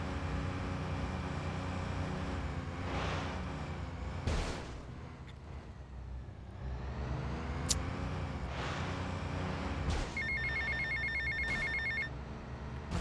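A telephone rings inside the video game GTA Vice City, its repeating electronic trill entering late and sitting over a loud, continuous bed of engine rumble and game sound.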